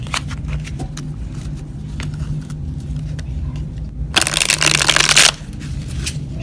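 Tarot deck with sturdy, medium-thick cardstock and a smooth buttery finish riffle-shuffled by hand; one loud, close burst of about a second stands out over quiet room tone and handling noise.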